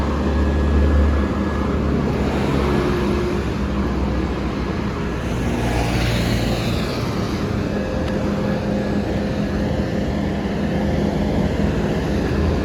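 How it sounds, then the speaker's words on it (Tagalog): Dense road traffic of cars and buses, with sports cars among them, passing on a busy road during a commute home from work. A continuous, loud rumble of engines and tyres runs throughout with no talk. "sobrang dami ng sakyan dito"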